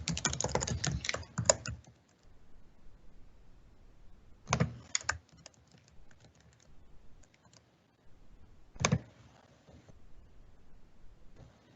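Login credentials typed on a computer keyboard in short quiet bursts of rapid clicking, one longer burst followed by two brief ones separated by near silence, no voices.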